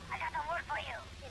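A short warbling electronic ring from an incoming phone call in the video game GTA Vice City, a few rising and falling tones in quick bursts, moderately loud against a low background hum.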